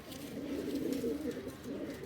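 A pigeon coos in a low, throaty, steady murmur, close and fairly quiet, with faint background sound and no clear talk.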